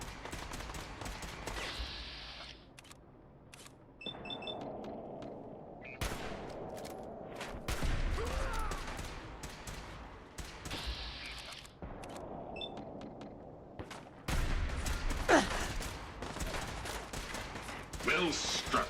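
Gunfire bursts out in a naval video game aboard the USS Constitution as boarding scavengers are driven off, with irregular volleys of shots cutting in and out among game sound effects.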